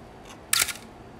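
A Canon A-1 35mm SLR fires its shutter at 1/1000 second, one sharp, close mechanical clack followed by a short wind-down in an otherwise quiet room.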